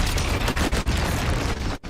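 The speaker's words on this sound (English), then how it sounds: "There's an explosion." An explosion in a Xenoblade 3 video game trailer, a loud, dense rumbling blast with crackling bursts lasting almost two seconds and a brief dropout near the end, with no talking.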